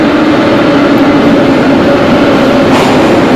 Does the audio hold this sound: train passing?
yes